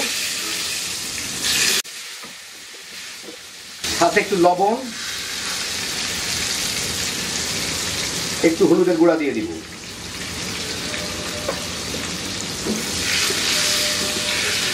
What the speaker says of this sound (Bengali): এইগুলাকে আমি কিন্তু হাই হিটে ভাজতেছি